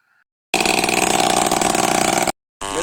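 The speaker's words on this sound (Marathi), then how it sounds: "मित्रांनो औषध मारणं सुरू झालेलं आहे." A petrol-engine pump sprays pesticide over a farm field, its small engine buzzing loud and steady for about two seconds, cutting out, then starting again.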